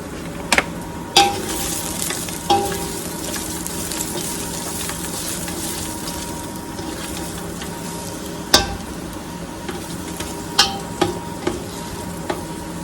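Beef and its juices sizzling loudly in a big stainless steel pot, a dense continuous frying hiss with occasional sharp metallic clanks from a utensil stirring.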